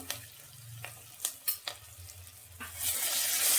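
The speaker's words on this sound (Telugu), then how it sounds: "అల్లం వెల్లుల్లి పేస్ట్ పచ్చివాసన వేయడంతో వేయించుకోండి" Ginger garlic paste frying in a pan makes a soft sizzle, punctuated by several distinct stirring scrapes and clinks. The crackling hiss swells louder toward the end.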